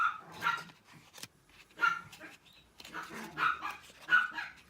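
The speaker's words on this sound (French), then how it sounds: "il y a les chiens qui jouent" Several dogs bark and yip in short excited bursts while playing nearby, the barks irregular and fairly loud, with brief whimpers between them and no talk.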